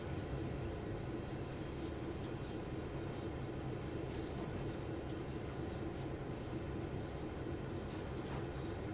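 A train rolling steadily along the line in a Canadian railway simulator on the Oakville Subdivision, giving a continuous low rumble and rail noise at an even, moderate level throughout with no talking.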